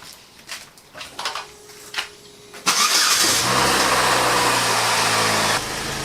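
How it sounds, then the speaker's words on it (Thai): A car engine is started after a few faint clicks and rattles, catching abruptly and then settling into a steady, fairly loud idle that keeps running to the end. "สตาร์ทรถ 15 นาทีถึง 10 นาที 15 นาทีนะครับ"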